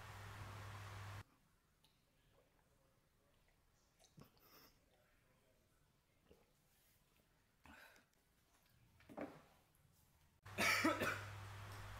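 A sick person coughing up blood lets out a few scattered coughs in a quiet room, with louder harsh bursts at the start and the end.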